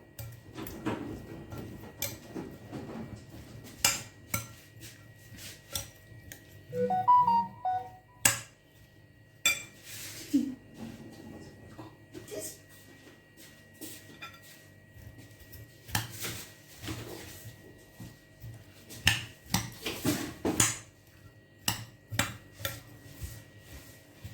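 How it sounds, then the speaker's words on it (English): A spoon stirring olive oil into homemade pizza dough ingredients in a bowl, giving intermittent scraping and clinking taps at an uneven rhythm, close and fairly quiet with no talking. "So guys, now I will start to stir them together."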